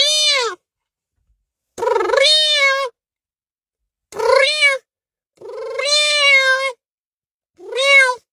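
A person imitating a cat's meow gives five drawn-out, rising-and-falling meows, each separated by a short pause, loud and close with no talk.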